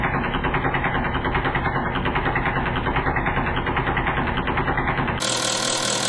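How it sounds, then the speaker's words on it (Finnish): An engine idling on an injector test rig, a steady, loud, rhythmic putter that keeps going alone, with a sudden shift in tone near the end. "tossa tietenkin kun se pärisee sitä tyhjää ajoa"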